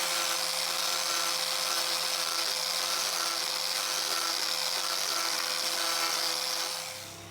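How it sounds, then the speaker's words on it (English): An Arbortech mini carver fitted with a 50mm Sabre carbide disc cuts into a log slice, giving a loud, steady, high-pitched whirring grind up close that holds for several seconds before winding down at the end. "So this is the Sabre, carbide disc, 50mm diameter."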